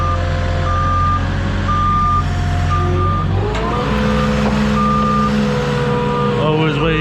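A forklift makes a delivery on a sloped driveway, its reversing alarm beeping in a steady repeated pattern over a loud engine drone that shifts pitch as it maneuvers.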